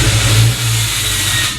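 A Ford Mustang Fastback engine revs loudly and close by, a deep steady drone that swells at the start, dips briefly, then holds a sustained roar with no talking.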